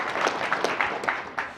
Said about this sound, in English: So give it up for you guys. Okay, round of applause.